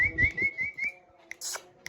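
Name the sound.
person whistling to a baby parrot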